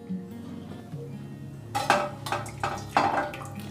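Boiled cauliflower leaves are lifted out of the water in a cooking pot, bringing a few close metallic clanks and clattering knocks of utensil against pot, mixed with wet splashing, after a quiet start.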